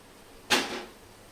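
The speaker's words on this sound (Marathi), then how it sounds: "आता आपण याच्यामध्ये आंब्याचा रस टाकायचा आहे पाऊण कप" Mango juice poured into a pan of jaggery and grated coconut, a single short wet splash-like burst lasting about a third of a second that fades quickly, with no talking.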